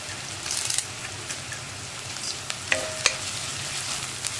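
Koorka (Chinese potato) stir-fry with curry leaves being stirred in a pan: a continuous soft sizzle with scattered scrapes and light clinks from the spatula, close by and without speech.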